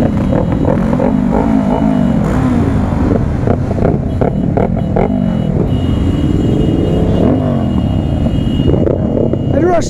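A 400cc motorcycle roars past during a group ride through town streets, its engine rumbling and revving loudly alongside other traffic, with people talking over the noise.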